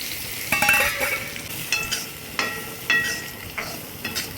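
Raw mango pieces sautéing in a pan with curry leaves and dried red chillies, a close sizzle punctuated by quick, regular scrapes and stirs of a spatula.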